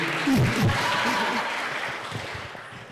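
Festival session audience clapping for a presenter, a moderate wash of hands that gradually fades, with a brief voice or cheer near the start.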